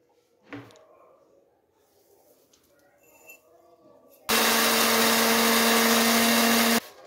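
An electric grinder powders dried turmeric at home, starting abruptly after some quiet handling noise and running as a loud, steady whirring roar for about two and a half seconds before cutting off.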